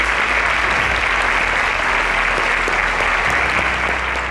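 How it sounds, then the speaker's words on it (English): A large audience applauds semi-finalists at the InterswitchSPAK 7.0 competition, a dense, steady wash of clapping that holds loud and unbroken throughout with no one speaking over it. "A round of applause"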